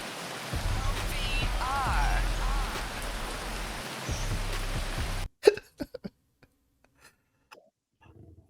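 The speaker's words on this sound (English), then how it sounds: "It's just raining, I guess." Steady rain falls outdoors for about five seconds as a dense, even hiss close by, then cuts off abruptly, leaving near silence with a few soft knocks and faint sounds.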